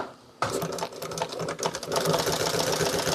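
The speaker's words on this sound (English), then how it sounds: "let's go ahead and sew it on there real quick" A sewing machine stitches fabric, starting abruptly after a moment of quiet and running in a fast, steady mechanical rattle that continues close and loud to the end.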